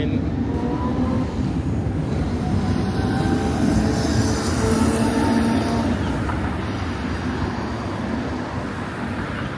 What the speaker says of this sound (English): You can hear a train.